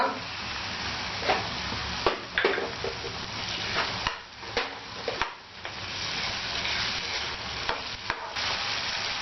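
Garam masala and turmeric masala stirred and sizzling in a pan as tomatoes go in for masala kuska rice, with steady frying hiss and intermittent scraping and clinking of a spoon against the pan.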